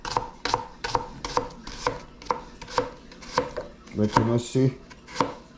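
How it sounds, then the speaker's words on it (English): A knife chops a purple onion on a board in quick, sharp, evenly spaced strikes. The chopping is close and crisp, with a brief word spoken partway through. "So people, cut it up, you know, the purple onion"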